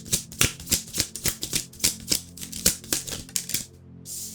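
Tarot cards are shuffled by hand in a quick run of crisp, rhythmic flicks and taps, close and fairly loud, with a short pause near the end and no talking.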